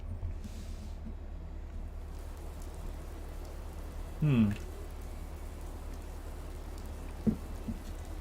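Steady rain falls in the video game Fallout 4, a constant soft hiss over a low rumble, with a brief tonal game sound and a faint click partway through.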